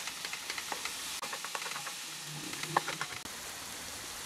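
Ground beef and chicken mixed together fry in a pan with a steady close sizzle and hiss, punctuated by scattered spatters and scraping stirs, no talking.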